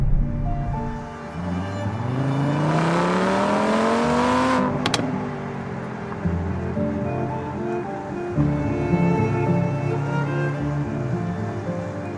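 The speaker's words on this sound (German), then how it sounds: "Der Fünfzylinder-Sound ist ein ganz spezieller, finde ich." A five-cylinder engine in a heavily rebuilt VW Passat RS with about 250,000 km on it revs up loud and close, its rising howl climbing for several seconds before dropping back to a steady, throaty running note. No one speaks.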